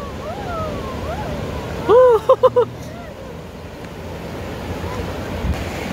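Sea waves wash steadily onto a beach under blustery wind noise, a constant roar beneath a short burst of people's voices partway through.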